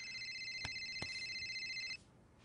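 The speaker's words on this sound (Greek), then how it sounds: "Όποιανού χτυπήσει το κινητό" A mobile phone rings on a film set, its electronic ringtone trilling steadily and fairly quietly for about two seconds before cutting off abruptly.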